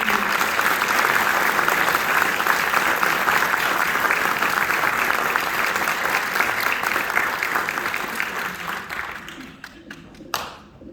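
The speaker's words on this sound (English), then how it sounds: "Can we have a round of applause for all of our amazing students?" Audience applause for students at a school band and choir awards event, a dense, steady wash of clapping that fades toward the end and stops with a couple of last claps.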